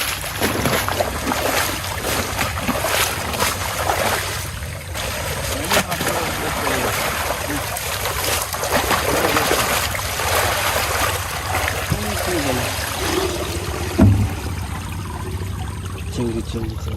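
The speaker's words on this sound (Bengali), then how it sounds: "এই হচ্ছে মাছ, ভালো করে ওয়াশ করি" Fish being rinsed in water by hand, with continuous splashing, pouring and trickling close by while people talk over it throughout.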